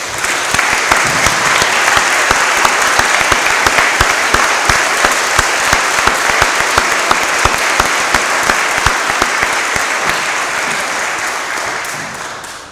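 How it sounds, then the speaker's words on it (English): An audience at a school honors day ceremony applauds the faculty and staff, a loud, sustained round of clapping from many hands with some sharp individual claps standing out before it fades near the end. "will you please stand up so we can give you a round of applause?"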